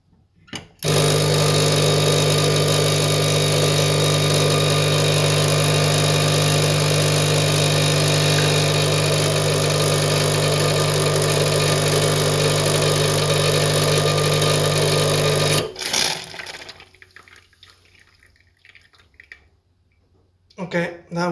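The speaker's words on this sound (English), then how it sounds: "So now let's try to brew the espresso." An espresso machine brews a shot for about fifteen seconds as a loud, steady pump hum with a strong low drone, then cuts off sharply, leaving faint clatter and near-silence.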